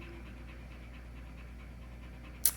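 Steady rhythmic panting from a highly reactive, easily aroused dog, close and fairly quiet, with a sharp brief noise near the end.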